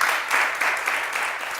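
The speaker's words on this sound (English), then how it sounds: "A round of applause for my speakers." Studio audience applause for the speakers on a health talk show about skin care, a brief, moderately loud burst of clapping pulsing in uneven swells.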